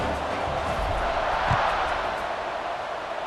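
A stadium crowd roars steadily in a college football video game after a touchdown, a broad continuous wash of cheering noise without talk.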